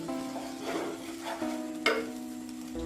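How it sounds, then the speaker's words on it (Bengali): Beef for tehari frying in a pan and being stirred, a soft continuous sizzle with scraping stir strokes and one sharper clatter near the end, close and steady. "ভাজা হয়ে গেছে সেটা বোঝার উপায় হলো নাড়া দেওয়ার সময় একটা শব্দ হবে এইরকম"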